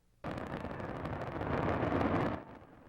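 A Fourth of July fireworks show launched from four barges in San Diego goes off all at once, a sudden dense roaring burst that swells for about two seconds and then cuts off.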